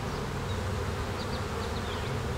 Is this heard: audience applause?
no